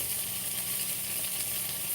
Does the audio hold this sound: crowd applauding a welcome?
no